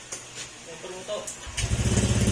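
A motorcycle engine with newly corrected timing starts after a moment of talk and settles into a near, steady, quick-pulsing run while people keep speaking.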